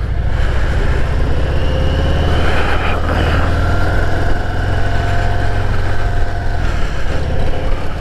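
A 2021 Harley-Davidson Softail with a 114 engine runs loud and close, a steady deep rumble that holds throughout with slight shifts in pitch.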